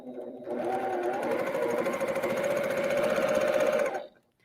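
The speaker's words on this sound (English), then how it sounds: "So I'm just going to chain stitch these." Sewing machine chain stitching quilt block pieces for stitch-and-flip corners, a rapid steady needle clatter and motor hum starting after a brief pause and running about three and a half seconds before cutting off, close up.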